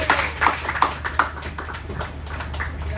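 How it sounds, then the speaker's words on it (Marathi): A small audience gives a short round of applause, with scattered, fairly loud hand claps coming close together. "एकदा जोरदार टाळ्या होऊन जाऊ दे."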